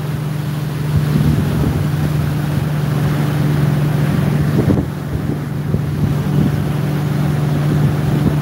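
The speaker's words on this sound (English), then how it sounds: "It got too windy." Heavy wind buffeting the microphone over a low, steady engine hum from a boat, continuous and loud with no talking.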